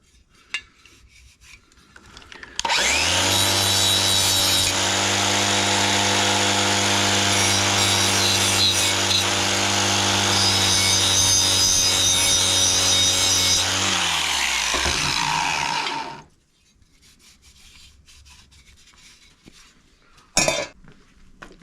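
A wire brush works burnt-on, hard-stuck oil off a part of a Toro TimeCutter SS5000 zero-turn mower. The loud, continuous scraping drone runs for about thirteen seconds, then stops abruptly.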